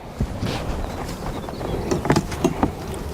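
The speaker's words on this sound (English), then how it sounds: "Bunch of bees downstairs." Honey bees hum around a backyard beehive, a soft, continuous buzz close by with a few light knocks and clicks of equipment near the end.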